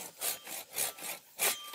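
A handsaw cutting through wood in a workshop tool room, three or four rhythmic rasping back-and-forth strokes, close and fairly quiet with no talking.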